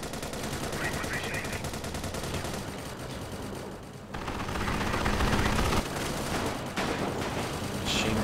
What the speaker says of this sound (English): Machine gun in me, Sterling